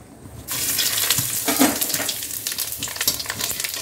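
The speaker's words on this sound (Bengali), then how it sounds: "ফোড়নগুলো দিয়ে একটু নাড়াচাড়া করে লঙ্কাগুলো একটু ফাটিয়ে দিই" Chillies and spices hit hot oil for tempering, bursting into a loud, close crackling sizzle after a brief quiet start, with irregular pops and spits continuing throughout.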